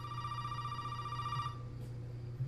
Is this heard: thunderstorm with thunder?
no